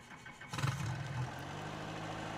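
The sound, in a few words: Bell 47G helicopter piston engine starting up in a flight simulator video game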